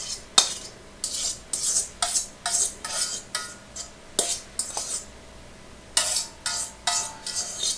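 Chopped artichokes and garlic cloves going into a bowl of spinach artichoke dip, heard as a steady run of metal utensil scrapes and taps against a dish, close and fairly loud, with short clinks recurring about every half second and no talking.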